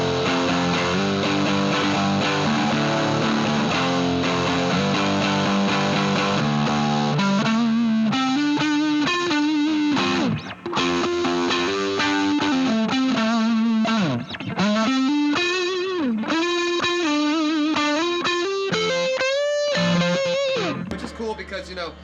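Electric guitar through a Fender Vaporizer amp with the vaporizer button engaged, heavily distorted and saturated chords sustaining at first, then a wailing lead line with bends and slides, loud and close.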